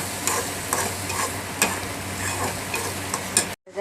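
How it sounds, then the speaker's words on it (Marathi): An onion, garlic, coconut, ginger and coriander masala paste fries with chicken in a pan, giving a steady close sizzle broken by sharp scrapes and taps of a stirring spoon. No voices are heard. "आता चांगलं परतून घेतो"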